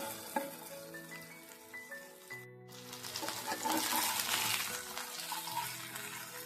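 Chicken sizzles on a tawa over a high flame, a loud frying hiss swelling up after a brief gap and persisting over soft background music.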